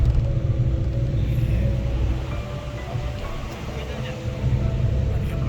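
A car drives the steep mountain roads of Gangtok toward Hanuman Tok, a steady loud low engine and road rumble heard from inside the vehicle throughout.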